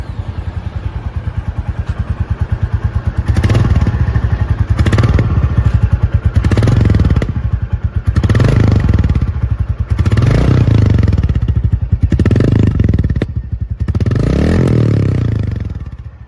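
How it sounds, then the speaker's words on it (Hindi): A Royal Enfield Bullet 350 motorcycle fitted with a new silencer revs hard in a series of about eight loud, close thumping bursts over a steady idle, with no talking. "ये बुलेट 350 का साउंड कैसा है?"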